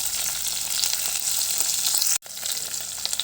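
Green chillies, curry leaves and onion fry in a pan with a dense, close sizzle that cuts out for an instant before resuming, with faint stirring under it.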